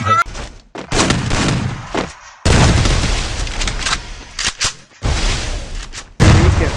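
Gunfire in the Free Fire battle royale game comes in rapid bursts and single shots, with sharp cutoffs between them, over loud game audio.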